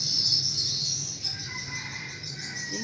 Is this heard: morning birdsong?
yes